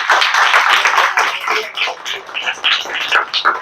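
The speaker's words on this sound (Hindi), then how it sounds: "तो एक बार जोरदार तालियां हो जाए इनके लिए।" An audience gives a loud, sustained round of applause at a gathering, dense overlapping clapping that carries on steadily for several seconds and then thins toward the end.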